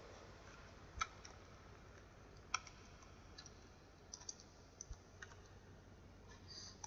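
Computer keyboard typing while flying a helicopter in a game: sparse, faint key clicks and taps, some in quick pairs, over a quiet low background hum.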